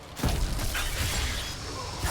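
A loud shattering burst in Dragon Age: Inquisition, a 4,000-damage shatter effect that cracks and scatters briefly, then leaves a ringing, whooshing tail for about two seconds with no talking.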